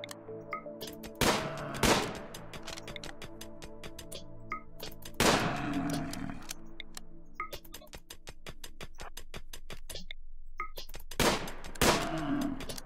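Gunfire in the colony game RimWorld as a colonist shoots a muffalo: a few sharp, loud bursts spaced several seconds apart over a steady musical background, with no talking.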